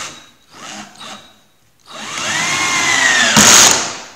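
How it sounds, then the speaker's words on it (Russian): A cordless screwdriver converted to mains power drives a screw into wood, with a couple of short whirring bursts followed by a longer, rising motor whine and a sharp final crunch as the screw seats. "Берем саморез, ставим на древесину."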